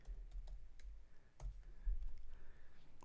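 Keys clicking on a computer keyboard in irregular light taps, quiet and close, over a low background hum with no talk.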